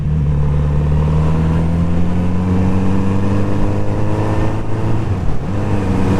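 Kawasaki Z900RS motorcycle engine pulling hard under acceleration, a loud, steady drone with rising harmonics and a brief dip near the end, heard close with no talking.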